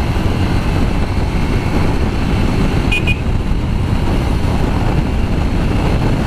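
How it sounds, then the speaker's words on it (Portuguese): A 250 motocross dirt bike engine roars steadily and loudly from the rider's position, mixed with heavy wind rush against the microphone, with no talking. "deixa eu curtir a moto, deixa eu curtir a minha motoca, a minha cross que ainda não tem nome"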